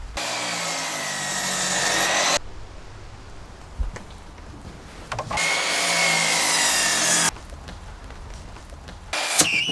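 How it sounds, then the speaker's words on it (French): Wood for a treehouse balcony is cut with a saw in two long, loud, steady bursts, separated by a quieter pause with faint handling knocks, and a brief third burst starts at the end. "Devant, un petit balcon. Ça veut dire à nouveau scier."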